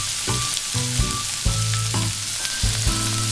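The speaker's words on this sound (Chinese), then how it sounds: "接着将天使红虾摆入锅中进行煎制，煎制的过程中不要随意的翻动。" Argentine red shrimp sizzle steadily in olive oil in a flat frying pan, a close, continuous frying hiss broken by a few brief clatters and tonal clinks, with no talking.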